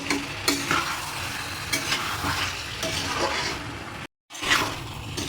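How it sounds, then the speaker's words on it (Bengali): Potatoes and chicken sautéing in a pan for a home-style chicken and potato curry, a close, continuous sizzle punctuated by regular scraping stirs, with a short silent gap near the end and no voices. "আরও কিছুক্ষণ আমি কষবো।"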